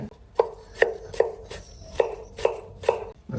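Knife chopping ripe tomatoes on a cutting board, about eight crisp, evenly spaced thuds close by, with no talking.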